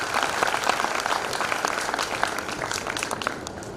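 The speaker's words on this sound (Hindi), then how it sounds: "एक बार जोरदार तालियां बजाइए।" Loud, continuous audience applause at a stress-relief program in Srinagar, Garhwal, with dense overlapping claps sustained from start to finish.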